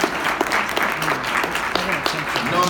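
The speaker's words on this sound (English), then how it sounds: "Clap it up for yourselves." Audience at a university mayoral candidate forum applauding themselves, a steady dense wash of clapping from a large crowd lasting throughout, fairly loud with scattered sharper claps.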